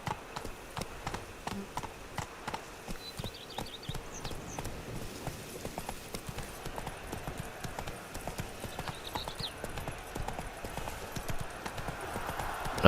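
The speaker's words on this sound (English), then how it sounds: "What on earth is this horse doing? Walk up the stairs, you can do it." Roach, the horse in The Witcher 3, walks with steady rhythmic clip-clop hoofbeats, close and moderately loud, while faint game ambience sits behind.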